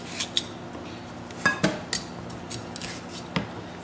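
A knife chopping a bell pepper on a board, with sparse, irregular sharp clicks and taps, a few louder knocks clustered near the middle, close and quiet with no voices.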